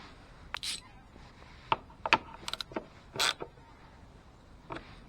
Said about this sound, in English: let's go ahead and tighten up our fuel pump.